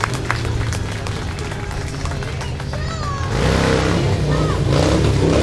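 An audience at an outdoor car show bursts into loud applause and cheering partway through, rising abruptly over a background of engine noise and talking.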